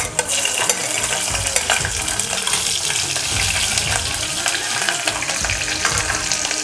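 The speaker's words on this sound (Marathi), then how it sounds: "काजू छान गुलाबी होईपर्यंत परतायचे" Cashews sautéing in a pan for masale bhaat, giving a steady, close sizzle with continuous stirring and scraping throughout, no talking.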